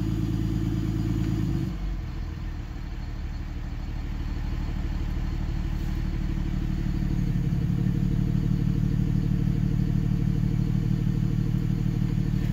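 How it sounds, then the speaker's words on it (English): A diesel truck engine holds a steady high idle with a VGT controller and exhaust brake, its low drone continuous and loud, with a faint turbo whistle rising slightly over the rumble. "I don't know if you guys can hear the turbo, but you hear it whistle up a little bit"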